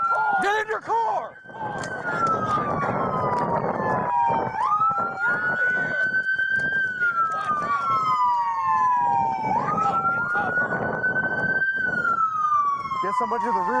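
A city police siren wails in long rising and falling sweeps, loud and close, repeating several times over engine noise while people shout urgently nearby.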